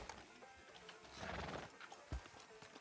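A horse in Red Dead Redemption 2 whinnies and its hooves clop in a game-world soundscape, faint and blended with ambient noise and a brief thump.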